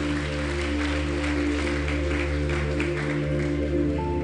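A church congregation applauds steadily and loudly, the clapping sustained as a dense, continuous wash for the whole moment over a low electrical hum.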